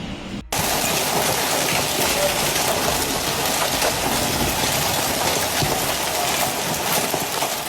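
Hail pounding down during a violent hailstorm in the Estagel area of southern France, a dense, loud, unbroken roar that begins abruptly after a brief quiet moment and continues steadily throughout.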